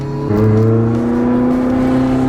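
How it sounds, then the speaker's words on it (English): A Ferrari 812 engine revs briefly, then holds a steady, smooth drone as it warms up close by, with no voices. "Getting the engine warmed up."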